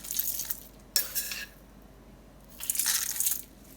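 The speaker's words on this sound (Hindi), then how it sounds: "अब हम इसके अंदर ऐड कर लेंगे 2 टेबलस्पून साबुत धनिया" Whole coriander seeds poured into a pot for mutton yakhni pulao, two short dry rattling bursts of seeds scattering against the metal, one near the start and a longer one toward the end, with quiet between.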